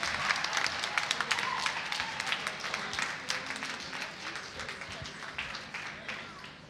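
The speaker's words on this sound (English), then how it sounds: "On les applaudit bien fort, s'il vous plaît." Audience applause at the final of a negotiation competition in Issoudun, a steady burst of many hands clapping at moderate distance that slowly tapers but stays continuous throughout.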